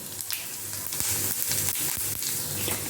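Fenugreek and spices fry in hot oil, giving a continuous close sizzle with scattered pops and crackles.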